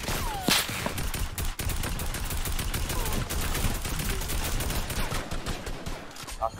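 Gunfire in the Fortnite video game: dense, rapid automatic bursts and scattered shots run throughout, fairly close, with voices talking over the shooting.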